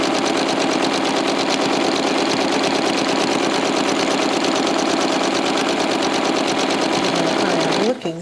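Sewing machine stitching a contemporary feather in free-motion quilting, a loud, fast, continuous mechanical whir and patter running steadily close up and stopping abruptly at the end.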